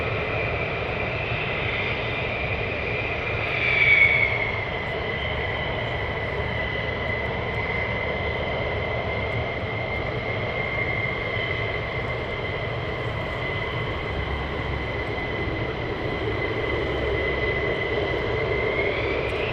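A military jet taking off at RAF Lakenheath during surge operations: a steady, distant engine roar with a high whine, holding level throughout and swelling briefly early on, with no talking.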